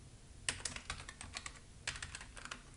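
Quick bursts of typing on a computer keyboard while filling in a property address form, soft clustered keystrokes in two short runs, fairly quiet and close.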